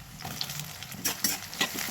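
Tomato frying in a pan, an even sizzle broken by several sharp spatula scrapes and stirring clatters, close and fairly quiet with no talk.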